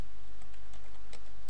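Typing on a computer keyboard while writing code, a quick run of light, close key clicks in an uneven patter over a constant background hum, with no talking.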